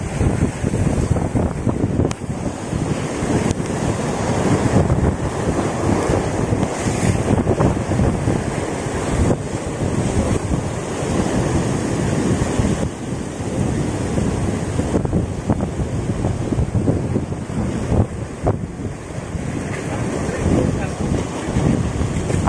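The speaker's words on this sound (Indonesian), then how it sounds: "Angel, anginnya banter." Strong wind buffets the microphone on a rocky island shoreline during shore fishing off Payangan, Jember, with surf rolling steadily beneath a loud, continuous roar that never lets up.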